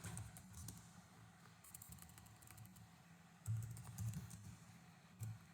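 Steady run of quiet computer keyboard keystrokes as a main method is written for a Prim's algorithm graph program, with a few louder key thumps partway through and no talking.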